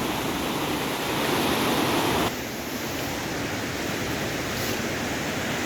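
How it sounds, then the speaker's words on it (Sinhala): The Dedigala Mal Kekuna waterfall in Sri Lanka roars as a dense, continuous wash of falling water, loud and close, steady throughout with no voices over it. "ඔන්න ඕක තමයි දෙදියගල මල් කැකුණ දිය ඇල්ල"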